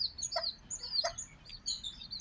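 Ten-day-old bantam chicks of the five-colour Benjarong type give high, thin chirps and peeps in quick scattered bursts, close and fairly soft, with a few lower clucking notes among them.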